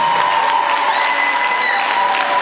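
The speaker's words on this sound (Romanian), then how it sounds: "să aplaudați pentru tot ce au făcut în seara asta" An audience at a freshers' ball applauds the performers, a loud, continuous wash of clapping and crowd noise with some cheering, sustained throughout and close.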